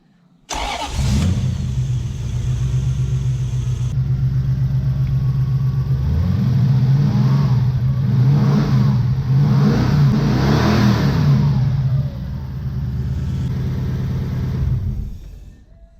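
A Toyota Hilux ute with a swapped-in 1UZ V8 engine cranks, starts and settles into a loud, steady idle with a slight rev, running close by for about fourteen seconds before shutting off.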